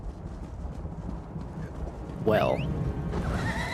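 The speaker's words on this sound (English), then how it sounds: "And then I shall hop on my horse." Horse in Elder Scrolls Online gives a sharp whinny partway through, then hooves clop along under a low game background, with a voice talking near the start.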